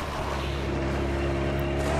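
Boat engine running at full throttle in Dead Island Riptide, said to have overheated: a steady, loud motor drone with a constant pitch, heard alone and without talk.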